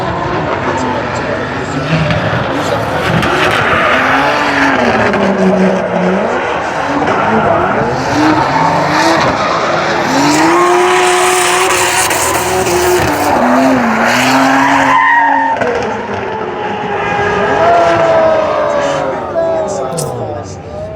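Drift car with a turbocharged BMW M50 engine making 560 horsepower, tires squealing and skidding continuously as the engine roars, during drift competition qualifying at Kern County Raceway, with commentary voices talking over the loud, sustained screech.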